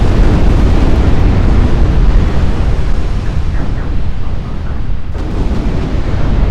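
Broadband roar of 20-inch naval guns and shell impacts in the Ultimate Admiral Dreadnoughts naval combat game, a continuous loud rumbling wash with a brief dip and fresh burst near the end.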